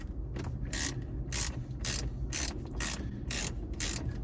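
A hand ratchet with a deep socket and extension turns a 7mm bolt in a Jeep Wrangler JK dash, giving a steady run of about eight close, crisp clicking bursts over a low background hum.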